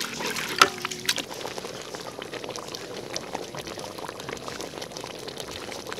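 Hot water boils in a cooking pot while pork skin is prepared: continuous close bubbling and crackling, with a brief splash or pour near the start, then steady simmering with no talking.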